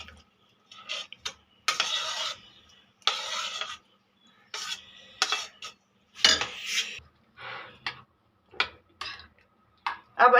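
Beaten eggs being mixed into a cooled mixture for a French omelette, with bursts of utensil scraping and clinking against a bowl separated by short pauses.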